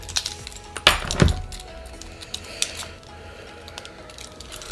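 Metal keys jangle and clink on a KeyBar MagNut, with a few sharp close metallic rattles early on, then softer scattered clinks fading out, with no talking.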